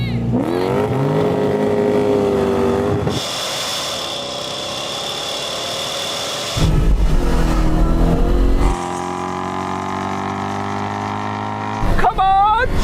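A stock naturally aspirated Toyota Supra with a 5-speed W50A transmission revs hard in a drag race, the engine note climbing through gear changes with sharp shifts, loud and close.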